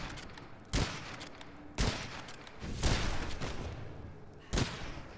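Gunfire in the video game Witchfire, four sharp shots spaced a second or so apart over a low ambient bed, with no talking.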